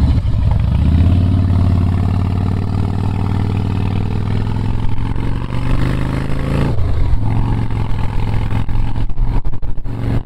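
A 2005 Harley-Davidson Softail Springer Classic with an 88 twin cam engine runs close and loud, its steady lumpy rumble briefly rising and dropping partway through, with no talk over it.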